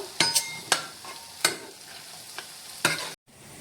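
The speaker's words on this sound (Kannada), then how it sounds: "ಇವಾಗ ಇದನ್ನು ಸ್ಮ್ಯಾಶರಿಂದ ಸ್ಮ್ಯಾಶ್ ಮಾಡ್ಕೊಳ್ಳೋಣ" Boiled vegetables for pav bhaji being mashed with a masher in a pot: a handful of sharp, close thumps and soft squishing scrapes at an uneven pace, ending in an abrupt cutoff.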